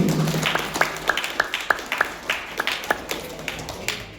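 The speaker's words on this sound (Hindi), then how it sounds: "ताली बजाइए" Scattered audience clapping at a youth personality-development camp in Raigarh, a loose run of distinct sharp claps spread unevenly across the moment, with no talk over them.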